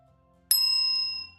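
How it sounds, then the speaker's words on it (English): A single bright strike of a small bell rings out after a quiet start, its clear metallic tone sustaining and slowly fading over about a second. "Oh, I haven't rung this bell in a while."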